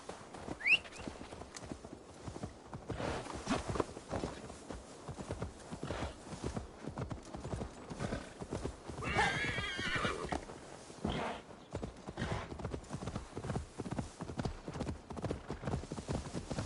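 Horse hooves clip-clop steadily in the Assassin's Creed Valhalla video game, with a horse neighing partway through, close and continuous.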